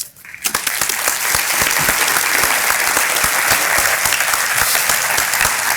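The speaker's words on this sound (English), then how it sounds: "we need a big round of applause" A breakfast event audience bursts into loud, sustained applause after a brief pause, with dense individual claps heard close by.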